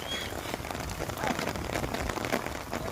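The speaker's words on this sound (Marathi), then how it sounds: "खूप जोराचा पाऊस चालू." Heavy rain falls hard and steady in a thick, close hiss of drops pattering on surfaces, continuing without pause for a few seconds.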